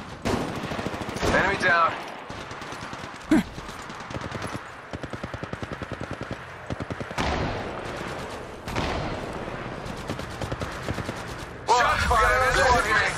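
Bursts of gunfire from a mobile battle-royale shooter, Apex Legends Mobile, rattle in repeated rapid volleys with brief gaps, while a game voice calls out over the shooting.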